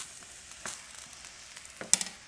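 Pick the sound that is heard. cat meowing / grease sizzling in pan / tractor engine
grease sizzling in pan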